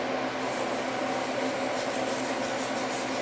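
Steady abrasive rubbing of a jack plane blade edge honed on a 10,000 grit sharpening stone, a continuous close scraping hiss with no talk.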